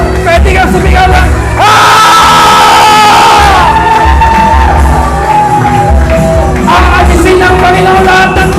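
A church congregation shouts with joy to God, a loud, massed roar of voices that swells, surges and breaks into whoops over several seconds, with talk mixed in.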